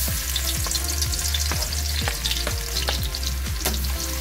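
Garlic fries in a hot pan with a constant close sizzle, broken by repeated sharp scraping taps of a ladle stirring it at a roughly regular rhythm.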